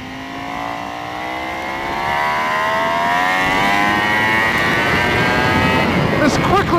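A Ducati Panigale V4 sportbike out on a race track, its engine note climbing steadily in pitch as it accelerates hard in a low gear, loud and continuous, ending with a brief burst of wind buffeting.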